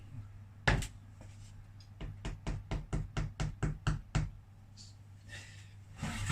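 A rapid run of about ten hollow knocks on a dense, freshly baked bread loaf, evenly spaced, following one louder knock, fairly close with a low hum underneath.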